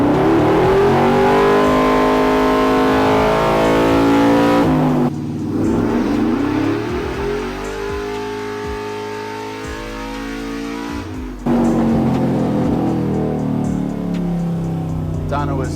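Cammed 6.0L V8 swapped into an OBS truck roaring on a dyno in second gear with the converter locked, the engine pitch sweeping steadily upward through loud revving runs, with a person talking over it.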